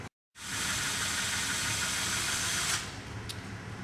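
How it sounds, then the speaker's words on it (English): A power drill with a 1/8 inch bit bores a hole through boat fiberglass, a steady, close whirring that starts abruptly after a brief silence and runs for a few seconds before easing off. "now we're going to need our power drill and a 1/8 inch drill bit"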